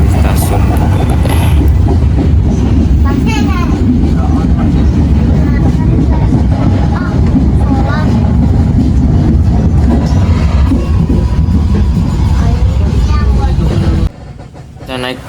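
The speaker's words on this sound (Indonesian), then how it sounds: "Selesai naik turun penumpang kereta api lokal Walahar berangkat dari stasiun Gedung Gede" The local Walahar train pulls out of Gedung Gede station with a loud, close, continuous rumble and rattle of wheels and wagons, people talking through it, then the noise drops sharply near the end.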